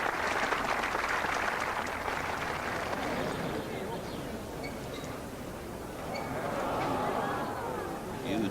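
Applause from a large golf gallery around the 18th green at Woburn during the final round of the 1986 Dunhill British Masters, a broad, steady patter of clapping mixed with crowd murmur throughout.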